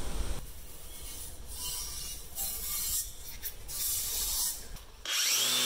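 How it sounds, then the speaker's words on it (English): A brass wire wheel on a hand grinder polishes a cast iron bear tape dispenser during restoration, producing a steady close abrasive whir and scratchy rubbing that shifts in pressure and briefly drops near the end. "I decided to use a brass wire wheel in the hand grinder, which is a lot more gentle on the metal"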